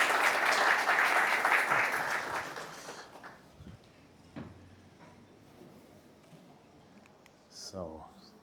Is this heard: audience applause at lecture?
yes